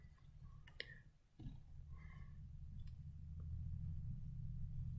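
Several soft, close computer mouse clicks come at irregular moments over a low steady background hum.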